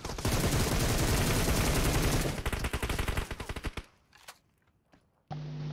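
Automatic weapon fire in PUBG Mobile: a loud, sustained rapid burst that thins into separate spaced shots and fades, followed by a sudden steady mechanical tone near the end.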